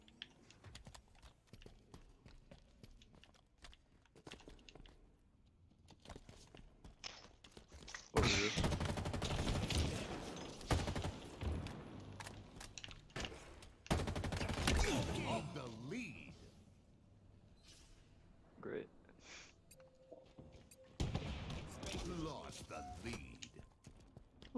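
Gunfire from a shock rifle in Halo Infinite comes in two loud, dense bursts amid other gameplay clatter and scattered shots. Quieter impacts and effects fill the gaps.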